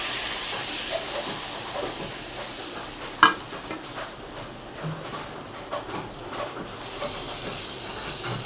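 Besan pancake made of gram flour with onion, tomato, chilli and coriander sizzling in a hot pan, a steady close hiss with faint scraping stirs and one sharp clink, no talking.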